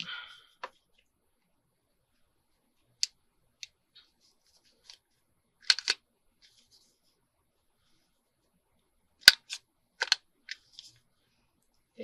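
A corner rounder punch snaps sharply through a paper tag booklet in sparse, quiet, separate clicks and clacks with silence between them.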